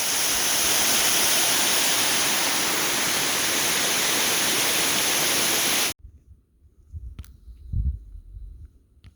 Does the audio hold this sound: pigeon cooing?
no